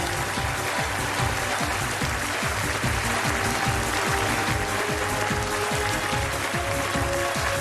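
Sustained applause from a large studio audience on the TV quiz show Kaun Banega Crorepati, dense and even for several seconds, with no one speaking over it.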